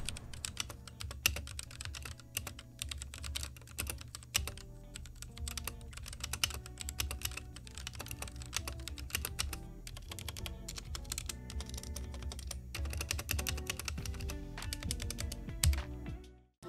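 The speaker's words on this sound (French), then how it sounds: "moi j'ai reçu le clavier dans sa version avec les sutures rouges et je vais vous laisser sur le sound test à présent." Someone types steadily on an Epomaker Ajazz K870T mechanical keyboard with red switches. The rapid keystrokes are close and clear, with a deeper thock under each press, and run without pause for about sixteen seconds.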